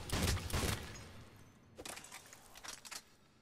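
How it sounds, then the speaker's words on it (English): A full-auto shotgun in Mass Effect 3 fires two quick rapid bursts, a loud burst first and a softer, choppier string of blasts after a short pause. "this is one of the best shotguns you can grab, because it fires full auto"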